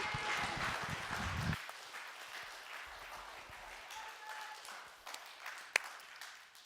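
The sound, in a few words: audience applause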